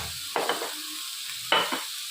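Jackfruit seeds are stirred in a pan with onion and tomato for a seed fry, giving two distinct scraping stir strokes over a low, steady sizzle.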